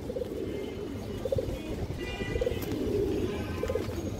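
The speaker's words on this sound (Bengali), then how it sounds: "এই যে দেখেন আপনারা অনেক সুন্দর দুটো কবুতরের দর্শক" Pigeons, including silver and big-headed fancy breeds, coo softly in a recurring low rhythm of several short calls spread across the stretch, faint and close against a steady background hum.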